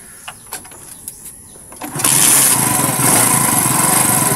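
A Bajaj 125 motorcycle with a fault that keeps it from running steadily: a few brief cranking taps, then the engine catches at about two seconds and runs loud and steady close by.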